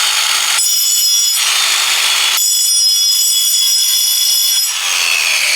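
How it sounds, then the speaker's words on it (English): Angle grinder fitted with a diamond blade sharpening the carbide tips of a stump grinder, a loud, harsh, close whine that rises and falls in several grinding passes with brief lighter gaps between them. "I got a diamond blade here for my angle grinder, so we're gonna use these"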